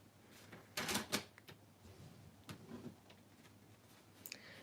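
Cardstock being scored on a scoring board for a paper treat box, heard as a few faint scraping and clicking strokes, with a louder pair of clacks near the start, in a quiet room.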